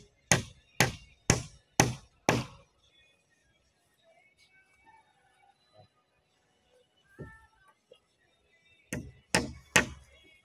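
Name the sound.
hammering while building a bahay kubo hut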